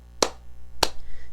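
Two sharp hand claps spaced about half a second apart, close and crisp against a quiet indoor background.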